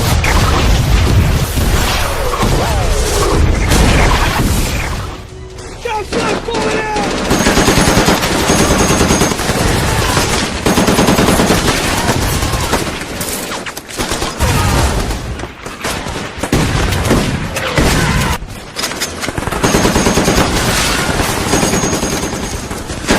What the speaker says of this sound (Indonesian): tiba-tiba di luar sana baku tembak terjadi.